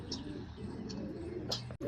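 Pigeons inside a loft give low, soft cooing calls that run steadily through the moment, with a few faint higher chirps and no talking.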